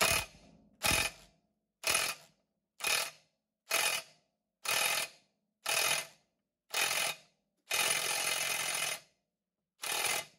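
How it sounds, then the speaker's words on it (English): Pneumatic impact gun hammering at a Mercruiser Alpha outdrive lower unit retainer nut during a DIY rebuild, firing in about nine loud, close bursts of roughly half a second each, with one longer burst near the end. "From here, I'm going to transition to the impact gun."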